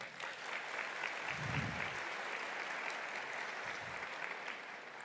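Sustained audience applause fills a hall at a national education forum in Colombia, steady and even throughout, with a few low thumps underneath.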